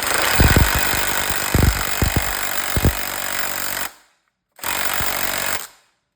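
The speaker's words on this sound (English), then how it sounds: "This is a brushless, so it hits, but it's just a 1/4 inch drive." A brushless 1/4 inch drive impact driver runs on a supercharger rotor pack drive hub, a loud continuous motor whir with sharp hammering bursts, then a brief stop and a second run that cuts off.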